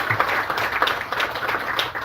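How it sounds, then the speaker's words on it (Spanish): An audience claps for Ramiro at a presentation of an IT workers' observatory in a cultural centre, a dense, even burst of applause from many hands filling the room, with no talk over it. "Un aplauso para Ramiro."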